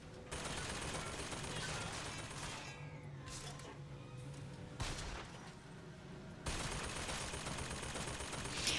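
Gunfire in the video game BioShock: dense, sustained bursts of shots form a loud, continuous barrage, with a brief lull in the middle before the firing resumes.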